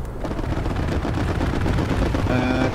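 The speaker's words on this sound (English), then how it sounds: "Strafe run coming in hot." Rapid, dense machine-gun fire from a strafe run in a video game roars loud and continuous from start to finish, with no pauses between bursts.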